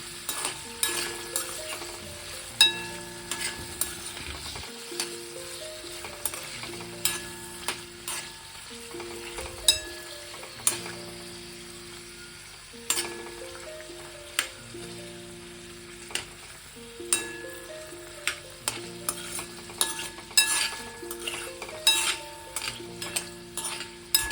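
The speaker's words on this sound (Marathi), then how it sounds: "फ्राय करून घ्यायचे ते पनीरचे तुकडे आपल्याला" Paneer pieces lightly frying in oil in a pan for palak paneer, a steady close sizzle broken by repeated stirring scrapes and clinks of a spoon against the pan, with no talking.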